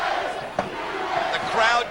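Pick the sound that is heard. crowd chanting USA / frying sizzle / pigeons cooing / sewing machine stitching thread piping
crowd chanting USA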